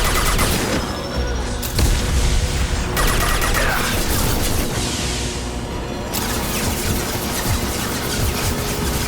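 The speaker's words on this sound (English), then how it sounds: "I'm just listening to automatic gunfire and rocket launchers" Loud, relentless automatic gunfire from the video game Mass Effect 2 crackles in dense bursts, mixed with heavy booming rocket launcher blasts, continuing without a break throughout.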